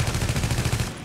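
Rapid gunfire in The Division, a burst of closely spaced sharp shots at steady rhythm, loud and near, with no talk over it.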